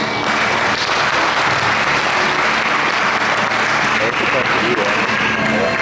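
Loud, dense applause from a crowd at a 2014 nursing graduation ceremony, honoring a new graduate; it runs steadily throughout, with voices mixed in underneath.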